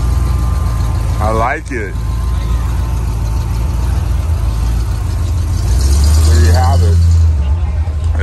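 A 1972 classic car idling at an outdoor car show, a steady low engine rumble throughout with a brief rev swell near the end, while people chat nearby.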